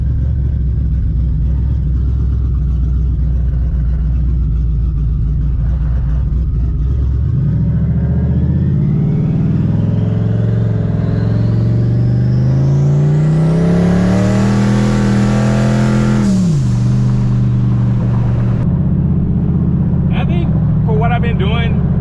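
A Ford Mustang engine idles with a low rumble, then rises through a long full-throttle pull to a high wail before dropping back, with someone talking near the start and again at the end.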